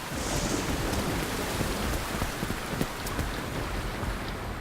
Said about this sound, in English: We're having heavy rains almost daily